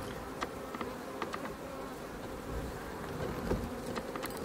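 Honey bees buzzing close by while queen bees are handled for wing clipping, a dense steady hum of many wings with individual bees flaring louder now and then.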